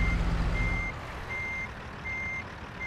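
A semi truck backing up in American Truck Simulator, its reversing alarm giving steady evenly spaced high beeps over a constant low diesel engine rumble, close and clear.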